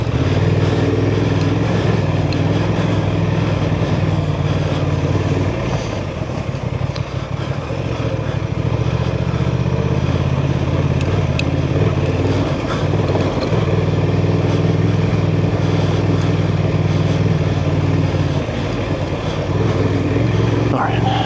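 Honda Transalp 750 motorcycle ridden on an off-road trail at Enoree OHV, its engine droning steadily and loud throughout, with brief dips and surges in throttle.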